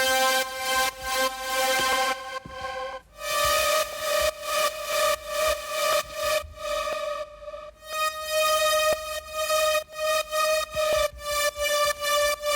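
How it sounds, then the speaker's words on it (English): A heavily reverbed saw lead synth for future bass, slow attack and long decay, with white noise mixed in, plays a bright sustained melody of swelling notes that wash into one another, loud and alone. "real reverbed out saw lead here with this envelope shape"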